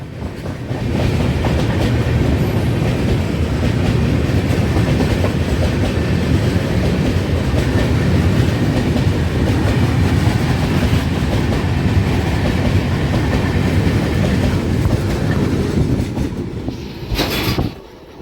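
Mysuru–Kakinada special train 07034 running near Nadikudi junction, a steady loud rumble of wheels and rolling stock heard from on board, continuous throughout and fading briefly at the very end.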